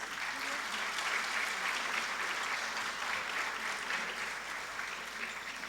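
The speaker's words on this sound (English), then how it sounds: "please give all the participants of Beware of the Mask a round of applause" An audience at a school performance event applauds the participants of a stage production, a sustained wash of clapping that stays even throughout with faint voices mixed in.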